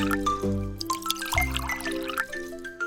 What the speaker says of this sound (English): I pour juice into my cup.